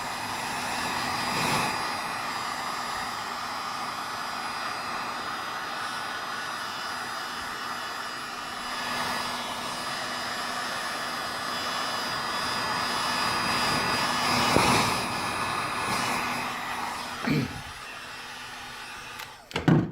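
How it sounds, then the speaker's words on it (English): A heat gun set on high blows with a steady, loud airflow roar while uncapping honey frames, with faint handling clicks and shifts toward the end and no talk. "Put it on high, and off we go."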